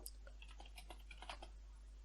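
Typing on a computer keyboard, a quick irregular run of light close clicks and taps over a constant low hum, no talk.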